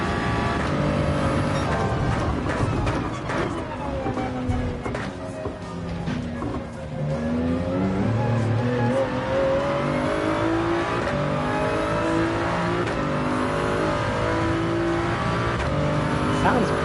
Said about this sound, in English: Nice sounding BMW motor coming out of this Supra.